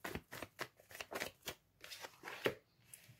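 Tarot cards are shuffled in a quick rhythmic run of soft riffling flutters, close and fairly quiet, with no talking over them.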